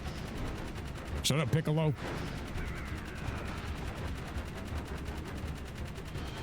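Gunfire from the action game Jak 3 crackles steadily in the background of the game's mix, while a voice briefly talks over it partway through.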